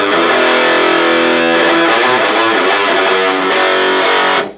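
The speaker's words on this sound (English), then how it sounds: "So it's a pretty brutal distortion." Electric guitar played through a Krank Distortus Maximus distortion pedal, giving a loud, thick, brutally saturated tone that rings steadily for over four seconds before cutting off abruptly.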